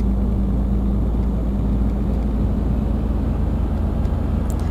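A heavy truck engine labours uphill in the Euro Truck Simulator 2 video game, a loud, constant low drone with a steady hum that holds throughout without a break.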